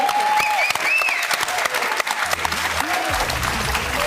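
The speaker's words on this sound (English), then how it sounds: "Round of applause, ladies and gentlemen." Studio audience applause on a morning talk show, a steady wash of clapping that holds for the full stretch, with music entering partway through underneath.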